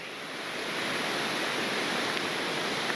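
Big Creek in the Great Smoky Mountains runs in a steady, soft rushing hiss heard from a trail through laurel thicket, constant and moderately faint, with no voices.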